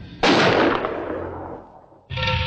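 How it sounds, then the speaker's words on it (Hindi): A loud gunshot in a Hindi action movie, a sharp crack with a reverberant tail that fades over about two seconds, followed by a second blast. "राम कटोरी, गोलियों को दुश्मनों की बोलियों का जवाब देने के लिए बचा के रखो"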